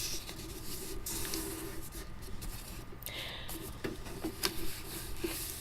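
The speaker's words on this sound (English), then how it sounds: "generally I fold it down so it just touches the bottom" Paper being folded and creased into a pocket closure envelope, close rustling and rubbing strokes with a few sharper crinkles, steady throughout with no clear talk.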